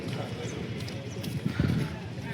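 Horses clip-clop at a busy horse market in Yeola, hooves knocking unevenly and close by amid crowd noise, with people talking over them throughout.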